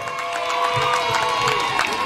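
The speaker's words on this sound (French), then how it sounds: "On les applaudit très fort, s'il vous plaît." Crowd noise at an outdoor wrestling show on a beach in Congo, with dense, steady clapping and cheering that swells slightly partway through and carries on throughout.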